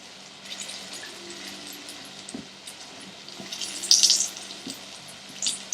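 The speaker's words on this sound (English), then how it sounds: "the oil is bubbling in between the gouges, so that it ensures it cooks really fast" Aubergine slices fry in hot oil, a soft continuous bubbling and crackling sizzle with scattered small pops and a few louder spits, fairly close and without talk.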